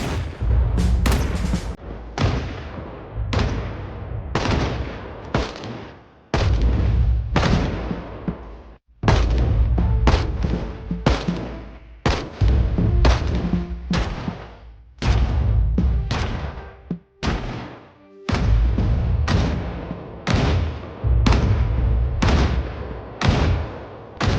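Gunfire at targets in Project Zomboid: a long run of loud, booming shots fired in quick, fairly steady succession, with a few short pauses between volleys.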